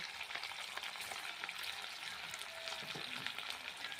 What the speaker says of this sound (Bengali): কড়াইতে তেল দিয়ে একটা একটা করে চিকেন